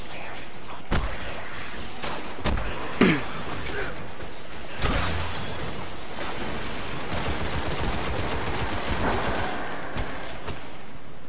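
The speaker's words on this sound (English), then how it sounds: "Hey, he's shooting me." Gunfire in the Destiny video game, sharp single shots and short bursts scattered over a busy, noisy game mix, with a player talking now and then.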